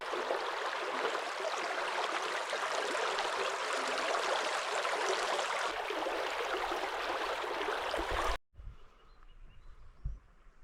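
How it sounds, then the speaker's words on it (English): A creek flows on a remote Alaskan off-grid property, a steady, close, broadband rush of water that runs unbroken for about eight seconds and then cuts off abruptly to near quiet, with a few faint knocks afterward. "The creek is here."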